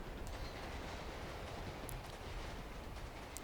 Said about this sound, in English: Oh, we missed the train too.